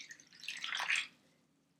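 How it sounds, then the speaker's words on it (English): A glass of water is poured into a latex glove, giving a soft trickling splash that swells and then fades to silence, ending with a brief sharp noise. "I'm going to take this glass of water and I'm just going to pour it in"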